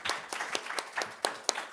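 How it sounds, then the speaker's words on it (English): Audience applause at a film festival screening with the directors present, heard as a short run of separate, moderately close claps in an indoor hall. "Applause."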